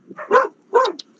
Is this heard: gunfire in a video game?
no